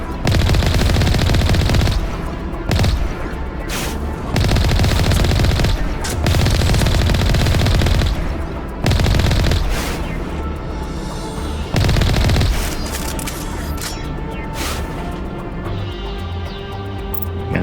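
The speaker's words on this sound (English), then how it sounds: "we just discovered some people here who decided to shoot at us." Gunfire from a firefight in the video game Mass Effect Legendary Edition, with loud bursts of automatic fire every few seconds and quieter background combat noise between the bursts.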